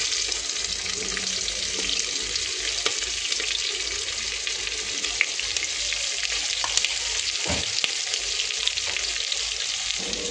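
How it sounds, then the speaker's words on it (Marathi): Onion and curry leaves frying in hot oil, a loud continuous crackling sizzle that holds steady throughout with scattered small pops. "आता आपला कांदा चांगला फ्राय होऊ द्यायचा"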